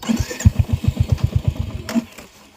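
A motorcycle engine on a hill road in Kolli Hills chugs in rapid, uneven pulses close by, sputtering about a dozen times before dying away into silence.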